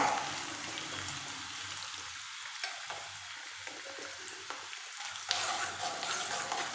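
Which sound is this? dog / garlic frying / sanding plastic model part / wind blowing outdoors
garlic frying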